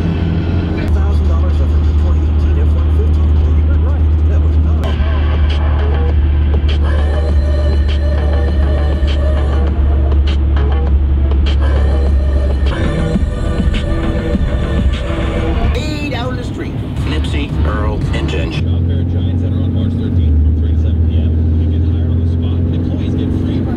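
Cummins diesel truck towing a trailer, a deep steady engine drone running loud and continuous throughout, with a shift in tone partway through and talk over it.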